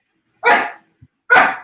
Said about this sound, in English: That's my little foster puppy who's trying to get into the conversation, if you can hear him.